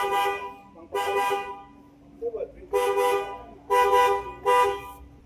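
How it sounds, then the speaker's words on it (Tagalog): A car horn honking after a relay wiring repair, four or five short toots at a steady pitch with gaps between, loud and close, with a brief voice in one pause. "Busina natin."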